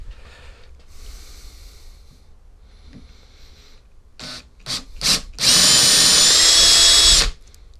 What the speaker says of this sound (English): what we've got to do is drill through with a 6mm pilot bit first, and that makes a pilot hole for the cutter